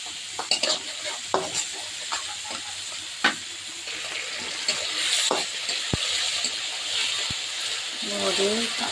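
Ginger and garlic paste fry in a pan with a bright, hissing sizzle, broken by scattered spoon taps and clinks; a voice briefly sounds near the end.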